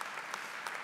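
Commencement ceremony audience applauding, a brief burst of steady clapping from a large crowd, even and moderately loud.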